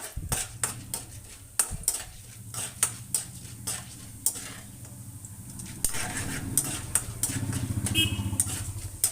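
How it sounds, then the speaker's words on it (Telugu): Urad dal dropped into hot oil for a coconut-jaggery chutney, giving a low steady sizzle with repeated sharp clinks and scrapes of a utensil against the pan, the frying growing fuller and louder toward the end. "ఆయిల్ వేడైందండి ముందుగా మినపగుళ్ళు వేస్తున్నాను వేసి వేపుకోవాలి"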